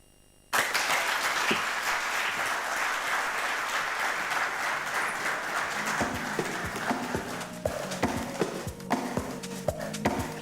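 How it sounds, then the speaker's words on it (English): Audience at an awards gala dinner applauding, a loud, dense burst of many hands clapping that starts abruptly and carries on steadily, thinning into scattered, distinct claps toward the end. "Let's clap and appreciate the Chief of Staff, Head of Public Service, the Honorable Felix Koskei, EGH."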